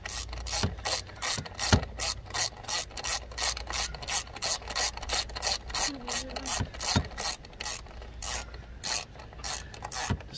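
A ratchet wrench snugs spark plugs into a Jeep 2.4 engine with rapid, regular clicking that runs continuously and close up, alongside occasional metallic scrapes.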